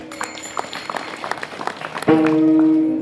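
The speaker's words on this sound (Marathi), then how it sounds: "एकदा सर्वांसाठी टाळ्या वाजवा" A kirtan audience claps for everyone in scattered, uneven hand claps over about two seconds, close by, before a loud, sustained tone takes over.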